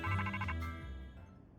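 A telephone rings in the Pokemon Legends Z-A video game, a short electronic trill that pulses at first and then fades away, heard alone without talk.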